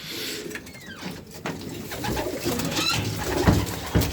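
Racing pigeons coo steadily inside a loft, with layered overlapping calls and some faint rustling and movement close by.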